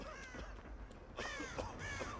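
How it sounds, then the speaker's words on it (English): Crows caw in the Dead by Daylight horror game, several harsh calls ringing out in two clusters, a few in the first second, then louder, overlapping caws near the end over a faint, low background. "I'm triggering all the crows, but whatever."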